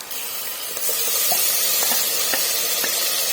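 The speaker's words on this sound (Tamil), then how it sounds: "இப்போ அரைச்சி வச்சிருக்க தக்காளி பேஸ்ட்டை அதில் கொட்டிடலாம்." Ground tomato paste poured into a hot pan of sautéed onions for tomato rice, setting off a sudden loud, steady hissing sizzle that holds close and continuous, with a few small pops and no voices.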